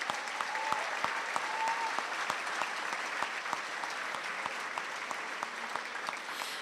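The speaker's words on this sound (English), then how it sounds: "Let's have a round of applause for this group of graduates" High school commencement crowd applauding a group of graduates, even continuous clapping with distinct individual claps standing out, moderately distant and steady throughout.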